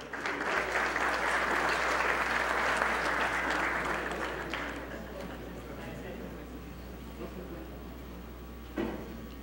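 An audience at a Latin American telecommunications lecture applauds an engineer from Chile, a dense wash of clapping that starts loud and gradually thins and fades over several seconds.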